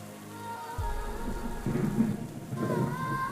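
Steady rain with a low rumble of thunder building underneath, while soft sustained tones from background music run throughout.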